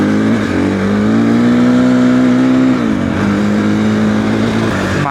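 A Triumph TF 450-E motorcycle runs over rocky terrain, its engine humming steadily and fairly quietly, with a slight rise and dip in pitch as the throttle changes.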